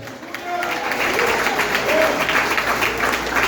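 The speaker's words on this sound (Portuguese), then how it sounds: "E você aplaude até." A church congregation at a family service applauds, a dense, fairly loud wash of clapping that builds slightly, with a voice briefly audible over it.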